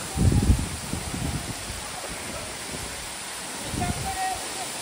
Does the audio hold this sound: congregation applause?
no